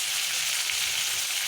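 Grated onion and sliced green chillies frying in a pan for a mushroom dish, a steady close hiss of sizzling oil with no pauses or voices.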